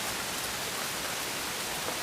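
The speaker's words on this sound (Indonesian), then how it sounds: "hujan teman-teman ya." Steady rain falling in an even hiss with no breaks, heard outdoors near an old hospital building.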